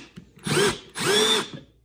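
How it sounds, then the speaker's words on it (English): A Milwaukee M12 FPDX cordless drill whirs in two short bursts in drill mode, each spinning up and winding down, with a brief pause between them; close and fairly loud. "Let's try drill."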